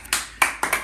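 A small audience at a Sunday magic show claps after a trick. A few sharp bursts of hand claps come in quick, uneven clusters over a short moment, close by, with no talking.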